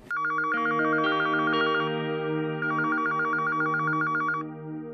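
A telephone rings with a bright electronic ringtone, a repeating trilling pattern that plays steadily for several seconds and then fades.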